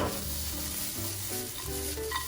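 Jalapenos sauté in a hot pan for shakshuka, a steady bright sizzle running the whole time with occasional stirring scrapes, close and fairly loud, no voices.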